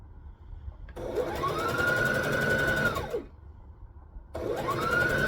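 Sewing machine back stitching a garment seam, running in two loud bursts with a steady motor whine and rapid needle clatter that speeds up and slows, separated by a short quiet pause.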